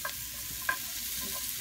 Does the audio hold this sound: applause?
no